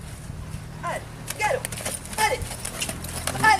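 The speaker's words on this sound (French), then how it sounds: "on recule et on part au galop." A horse backs up and then breaks into a gallop, hooves clopping at a quickening pace on soft ground while a voice talks over them, with low rumbling in the background.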